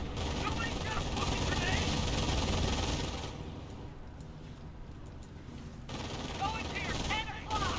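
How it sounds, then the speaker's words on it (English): Sustained MG42 machine gun fire in Company of Heroes, a loud continuous rattle that fades to a quieter battle din and then swells again, with other combat noise around it. "we got the MG42 push his way forward, getting some good damage there onto the Rifleman"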